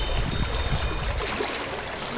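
Small creek flowing beneath a tiny bridge in the small town of Cleveland, heard as a continuous, close rushing and trickling wash of water with no voices.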